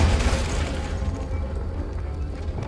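A Confringo explosive spell from Hogwarts Legacy bursts as a heavy, rumbling boom that fills the clip, with a dense low blast tapering into a sustained crackling roar without any voices.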